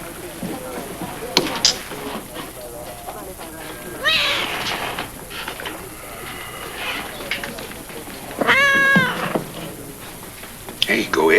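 A pet cat named Izzy meows a few times indoors while being fed, the calls rising and falling around a steady hum, with a louder cluster near the end.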